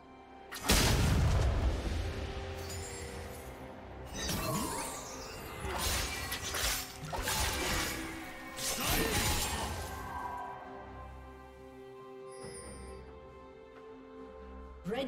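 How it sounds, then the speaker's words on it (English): A turret being destroyed in League of Legends, with a loud booming crash followed by several smashing impacts and whooshes under game music, then tapering off. "Red team's turret has been destroyed."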